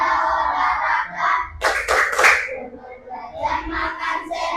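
A short burst of children clapping in unison during a classroom clap chant, a few sharp claps in the middle between stretches of young voices chanting.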